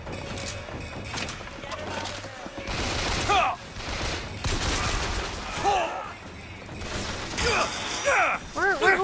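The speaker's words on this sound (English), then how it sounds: "Who's shooting me?" Gunfire and clanking mechanical weapon sounds in the video game Bioshock Infinite, several bursts of shots mixed with metallic ratcheting and game effects, with voices heard in between.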